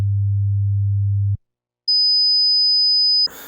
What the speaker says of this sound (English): I generated tones using Reaper's JavaScript tone generator